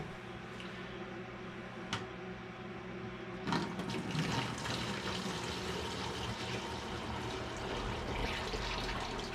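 White grape juice poured into a jug for homemade wine, a steady splashing, gurgling stream that begins with a sudden rush and keeps running evenly, close and without talk.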